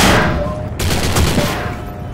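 Gunfire in the video game Postal 4, a dense, loud burst of rapid shots that rolls into a continuous roar over about two seconds, with no speech.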